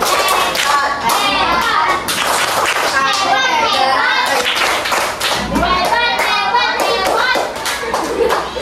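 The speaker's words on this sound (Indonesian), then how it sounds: "Beri tepuk hebat." A primary school class clapping for classmates after their presentation, a loud rhythmic burst of many small hands close by, mixed with children's voices and chatter.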